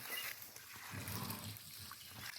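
Water poured from a container onto young plant seedlings in a garden plot, a faint, soft trickling splash running steadily for a couple of seconds with no talk.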